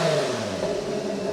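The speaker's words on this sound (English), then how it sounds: "I just want everyone to hear the exhaust with the valve closed from the back" A car engine revving steadily through its exhaust, a deep, muffled rumble heard from behind the vehicle.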